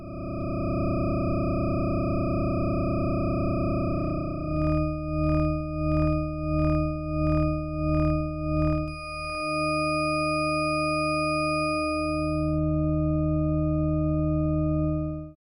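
Psychoacoustic sonification tones, one for each axis, play as steady pure electronic notes: first a sustained chord, then a pulsing series of about eight beeps, then another held tone, clear and close with no talking.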